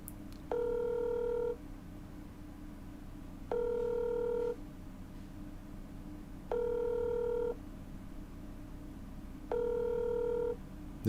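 An outgoing telephone call rings out unanswered: four evenly spaced ringback tones, each about a second long, pulse every two seconds over a low steady hum.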